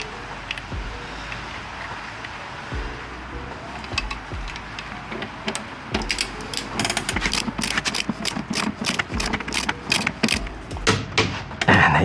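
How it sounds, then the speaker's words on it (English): Torque wrench tightening a crank arm on a Bosch eBike motor to 60 newton meters, a series of sharp ratcheting clicks speeding up and growing louder over a low mechanical background. "Then you'll need to switch to your torque wrench."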